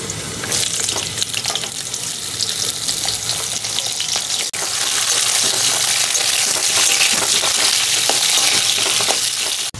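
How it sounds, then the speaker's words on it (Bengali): Green beans frying in hot oil in a kadai for a Bengali mixed vegetable curry, a steady loud sizzle with stirring clatter, no talking. "এবার ভেজে নেব শিম"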